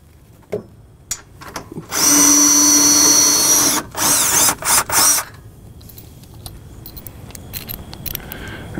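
A power tool whines loudly in several bursts while removing lag bolts from the flange of a trailer axle, one long run followed by shorter pulses, then light metallic clinks afterward.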